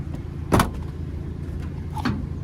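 A fuel cap door on a 2005 GMC Canyon SLE five-cylinder pickup clicks open with a short, sharp latch pop, followed by a fainter second click a moment later against quiet outdoor background.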